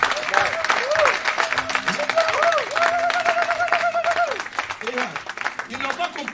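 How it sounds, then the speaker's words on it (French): A church congregation claps and cheers in acclaim of the Lord during a sermon, sustained applause with crowd voices and a loud voice singing over it. "Est-ce que vous pouvez acclamer quand même le Seigneur?"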